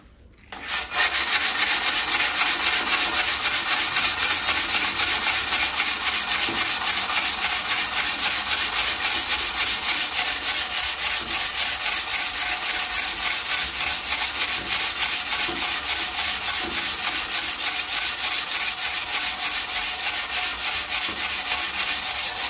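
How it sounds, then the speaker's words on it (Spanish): Waterproof sandpaper, folded in three, scrubs limescale off a toilet bowl in a continuous harsh rasp, loud and close, after a brief quiet start, with no talking. "Y ahora sí, vamos a empezar a lijar lo que es el sarro."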